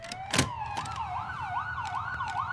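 A toy ambulance siren wails in a rising and falling electronic tone, repeating in smooth cycles at moderate volume after a brief sharp click, with no talking over it.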